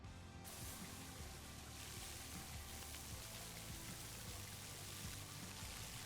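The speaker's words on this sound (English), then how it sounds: "Marshall's water cannons to cool the rock and get through" Water cannon spraying in the Paw Patrol Mighty Pups video game, a steady, hissing rush of water that runs unbroken throughout under game music, with no talk.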